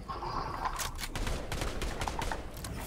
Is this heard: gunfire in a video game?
yes